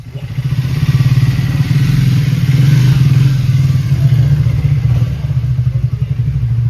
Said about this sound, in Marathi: ह्या बाईकचा आवाज इज सो नाईस